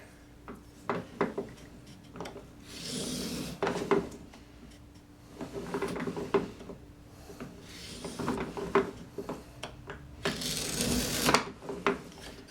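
A miter trimmer slices through white oak in several separate shearing strokes, each a short crisp rasping cut with quieter handling sounds between them, close and clear without talk.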